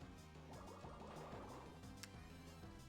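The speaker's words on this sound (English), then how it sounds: "And then we Water Pulse it into Oblivion" A Water Pulse attack lands in Pokemon Renegade Platinum as a quiet, watery, splashing effect with bubbly pops and a short sharp hit partway through.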